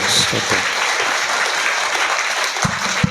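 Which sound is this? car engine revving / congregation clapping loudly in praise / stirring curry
congregation clapping loudly in praise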